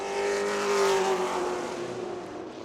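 A Pro Late Model race car engine on a warm-up lap at New Smyrna, a steady loud drone with a sustained tone that swells slightly and then eases as the car runs through the turns, no talk over it.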